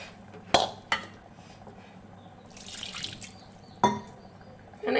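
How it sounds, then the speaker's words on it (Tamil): Water is added to mutton gravy in a cooking pot. A short splashing pour sits between a few sharp metallic clanks of utensil against pot, set in a quiet kitchen. "இந்த அளவை தான் நம்ம தண்ணி ஆட் பண்ணிக்கணும்."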